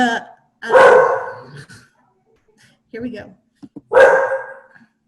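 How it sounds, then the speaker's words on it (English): Dogs bark in loud bursts at someone at the door in a home, two clusters of barking a few seconds apart with a person speaking briefly between them. "So now my dogs are going to bark like crazy."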